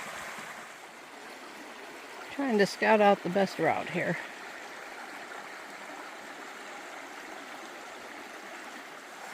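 A river flows near Trader Falls in the Porcupine Mountains, a steady rushing wash that fills the whole stretch while someone speaks briefly in the middle.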